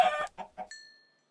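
Chicken clucking in the video game Minecraft, three short close clucks in quick succession followed by a thin ringing tone that fades out, with no talk.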